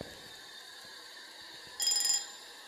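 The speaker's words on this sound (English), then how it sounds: "I think that was in this room, the alarm clock." Alarm clock ringing inside a haunted house in the game Phasmophobia, a brief high electronic beeping that rises over a quiet background hum near the end.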